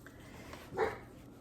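A dog barks at the mailman, a single short, faint bark heard indoors at a distance against a quiet background.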